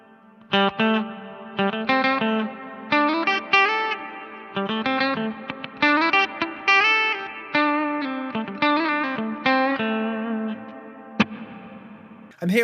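Clean electric guitar chords and single notes played through the hall reverb mode of a NuX Atlantic pedal, each strum ringing out into a long, spacious wash with audible pre-delay, steady and prominent with no talking.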